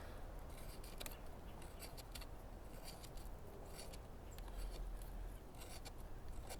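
A Mora Kansbol knife shaves thin curls from wood in a string of faint, quick scraping strokes with sharp little ticks, close but quiet, with no voices.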